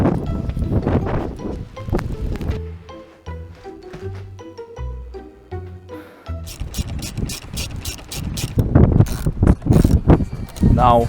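Screws are driven into an Audi TT car bumper, giving intermittent mechanical whirring and ratcheting bursts with clicks and rattles between them, close by, with outdoor wind noise throughout.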